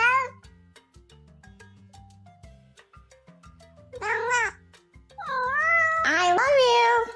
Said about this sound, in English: Say meow meow.